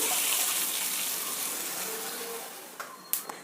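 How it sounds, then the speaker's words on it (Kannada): Water poured into hot tempering in a cooking pan for a Malnad-style rice kadubu recipe, a steady broad rush and hiss that slowly fades, followed by a few small clinks near the end. "ಎರಡು ಬಟ್ಲಷ್ಟು ನೀರು ಹಾಕ್ತಾಯಿದ್ದೀನಿ ಒಗ್ಗರಣೆನಲ್ಲೇ ನೀರು ಹಾಕ್ಬಿಡ್ಬೇಕು"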